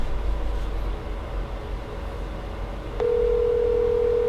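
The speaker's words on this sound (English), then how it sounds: "It's ringing." A telephone rings on an outgoing call: a steady ringback tone starts partway through and holds over a faint background hum, with no voices.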